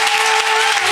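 A church congregation applauds and cheers for the Lord, a brief burst of loud, dense clapping from many people.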